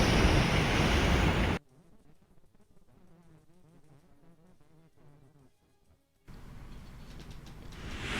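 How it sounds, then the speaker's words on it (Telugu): Rough sea waves crash at Uppada beach near Kakinada, a loud roaring surf at the start and again at the end, with a quieter stretch in between. "అల్లకల్లోలంగా మారింది సముద్రం. ఉప్పాడలో రాకాసి అలలు రోడ్డుపైకి ఎగిసిపడుతూ ఉన్నాయి."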